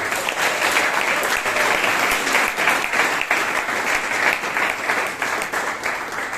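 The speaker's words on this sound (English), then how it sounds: "give a big round of applause" A Toastmasters club meeting audience in Bangalore bursts into sustained applause, dense clapping that stays loud and steady throughout before easing slightly at the end.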